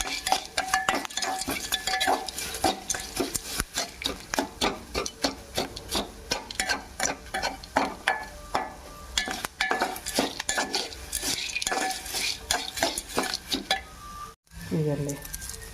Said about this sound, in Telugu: ఇలా వేగితే చాలు కరివేపాకు